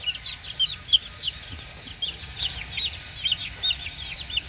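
Hen-hatched native chickens and their chicks cluck and peep in quick, uneven bursts close by, forming a busy, continuous chatter without talk.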